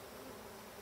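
Honey bees buzzing at an opened hive, a steady, dense drone that stays constant and fairly faint throughout, with no voices.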